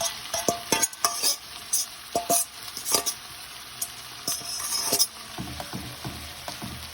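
Saltfish stirred and fried in a pan: a sizzling bed under repeated sharp scrapes and clinks of a utensil against the pan, irregular and close, with no voices.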